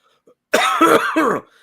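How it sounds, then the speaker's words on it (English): A single harsh cough close to the microphone, breaking into three quick rasping bursts after a brief silence. "I'm so sorry if I cough right in the mic."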